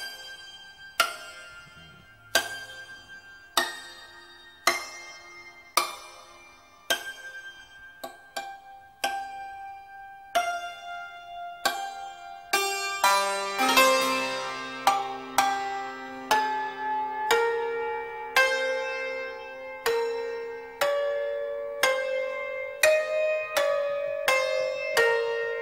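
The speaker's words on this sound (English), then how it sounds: "This is the fastest tempo that I can play flageolets and the lower strings." Persian santur played with harmonic flageolets near the bridges and on the lower strings, solo and close: a sparse series of bright, ringing struck notes that quickens into a faster, denser run with long shimmering decays.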